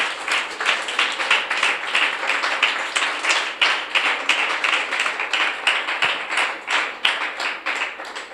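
A church congregation claps hard and in unison during a Telugu sermon on meditation on the cross. The sharp, loud claps beat in a steady, fast rhythm, close and continuous with no talking.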